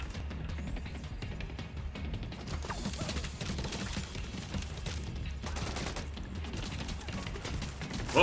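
An automated turret in The Division 2 fires rapid bursts of gunshots, dense and continuous with crackling impacts running throughout, and no speech.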